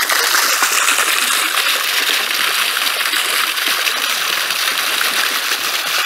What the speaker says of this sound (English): I'm leaving it out of the water so you can see the flow that comes out of the top of this pump.